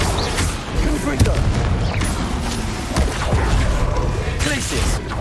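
Spell combat in Hogwarts Legacy with Confringo fire blasts, rapid booms and thuds layered with other effects and game noise while a player talks over the action.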